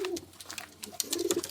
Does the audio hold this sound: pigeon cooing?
yes